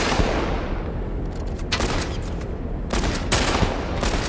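Sustained gunfire in The Last of Us Part 1, dense bursts of shots crackling almost continuously with heavier volleys near the start, middle and end, loud and close with no talk over it.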